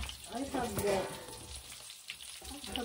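Hamburger patties made from home-ground meat fry in a pan for egg rolls, a steady close sizzle with brief stirring and scraping noises and a faint voice in the background.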